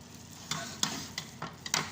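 A spoon or ladle stirs biko, a coconut rice cake made with coconut milk and sugar, in a cooking pot, giving quiet, rhythmic scraping strokes about every third of a second.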